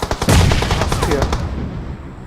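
A short, loud volley of rapid automatic gunfire in PUBG Mobile, several shots in quick succession, close and dominant before fading into an echoing tail.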